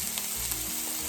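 Vegetables sauté in oil in a pan for a King Ranch chicken casserole, a loud, continuous close sizzle with faint stirring beneath it and no talking.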